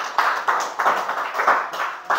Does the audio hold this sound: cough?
no